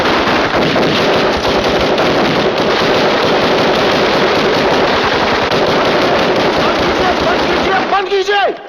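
Continuous loud rapid gunshots crackle like a barrage, almost unbroken for several seconds, with a brief tonal chirp near the end.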